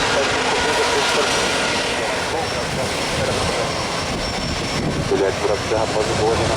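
Aircraft engine roar fills the scene at Salvador airport in heavy rain during busy takeoffs and landings, a loud continuous rumble with faint radio chatter mixed in.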